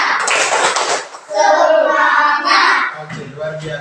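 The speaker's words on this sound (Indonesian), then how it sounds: "Semuanya tepuk semangat." A school class claps together in a classroom, a dense burst of many hands with children's voices mixed in, loud and close.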